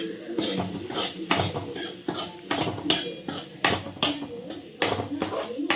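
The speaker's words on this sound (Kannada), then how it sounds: "ಇವಾಗ ಉಳ್ಳಾಗಡ್ಡಿ ಹಾಕಾಕತ್ತಾನೆ" Chopped onions go into a cooking pan on a home stove, with a steady run of sharp metallic clanks and scrapes from utensils against the pan, close and lively, and a voice faintly in the background.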